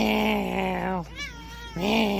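A man imitates a cat's meow with his voice, a drawn-out, whiny yowl that bends in pitch, breaks off briefly, then resumes. One of a run of repeated meows, close and loud, with no other talk.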